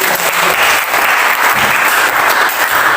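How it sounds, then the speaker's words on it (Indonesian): Loud, steady applause from a seated audience after a group presentation, dense clapping filling the whole stretch with no voices on top. "kita tepuk tangan untuk"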